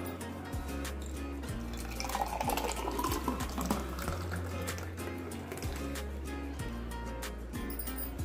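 Blended watermelon juice poured into a glass, a continuous close trickling and dripping of thick liquid that runs steadily throughout.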